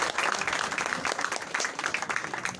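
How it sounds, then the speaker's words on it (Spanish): An audience at a community gathering on ancestral legends and beliefs applauds a speaker with quick, moderately quiet clapping that runs steadily through the short stretch. "de nuevo un fuerte aplauso para el hermano Choncho"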